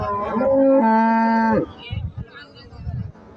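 A Friesian cow at a cattle market gives one loud, drawn-out moo lasting about a second and a half, followed by softer low rumbles and market background noise.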